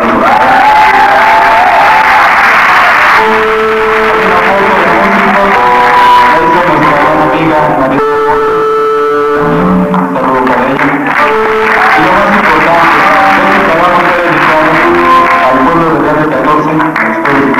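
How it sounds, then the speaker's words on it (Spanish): A crowd at a 1989 blues concert in Mexico City's Auditorio Nacional applauds and cheers loudly and without a break, while sustained musical tones ring through the noise. "Un aplauso para él."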